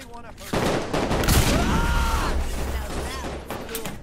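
Gunfire from a weapon in Saints Row IV fills the scene as a dense, sustained barrage with rapid overlapping shots and crashes, loud and close, with a voice heard briefly under the shooting.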